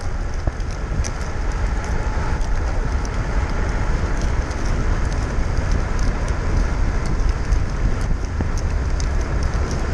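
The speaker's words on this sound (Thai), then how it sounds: "มีฝนลงเม็ดเล็กน้อยนะ" Constant hiss of light rain falling with faint scattered patter, heard over a low engine rumble, steady throughout with no talking.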